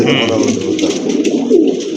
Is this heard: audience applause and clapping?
no